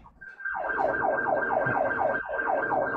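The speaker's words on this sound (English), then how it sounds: "And now the sirens are going." A wailing emergency siren cycles rapidly up and down in a steady yelp pattern during a police chase, loud and fairly close, with traffic noise beneath.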